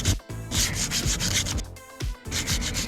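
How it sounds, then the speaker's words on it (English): Wire brush and sandpaper scrubbing rust and dirt from the bushing opening of a 2007 Hummer H3 3.7L front differential, heard as loud, close bursts of rough rubbing that pause briefly between strokes. "A small wire brush will take the rust and dirt off, and some sandpaper will take care of these small scratches"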